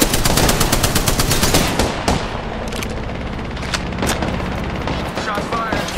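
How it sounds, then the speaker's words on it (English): Rapid automatic gunfire from a firefight in the battle royale shooter Apex Legends, dense bursts of shots for the first two seconds, then scattered single cracks and booms over a steady background, with a voice talking underneath. "Shots fired."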